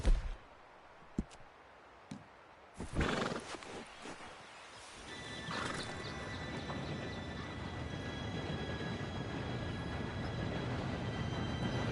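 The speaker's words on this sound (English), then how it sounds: "Train should be here any minute now." In Red Dead Redemption 2, a train approaches with a low, swelling rumble and a distant whistle rising steadily after a few horse hoof thuds and clip-clops nearby.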